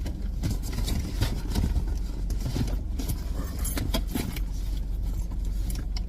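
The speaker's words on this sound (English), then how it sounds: "I'm going to have to use keys" A bunch of keys jangling and clinking in the hand, a run of close, bright metallic rattles over a low steady background hum.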